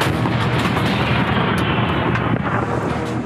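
Gunfire and explosions in the war zone around Donetsk make a dense, continuous rumbling barrage. It is loud and unbroken, with no voices.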